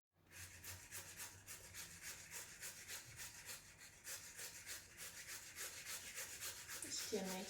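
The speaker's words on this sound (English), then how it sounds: "We just need boiled beetroot in a grater." Boiled beetroot is rubbed over a grater in a fast, even back-and-forth rhythm, each stroke a close, soft rasp, with a louder scrape at the very end.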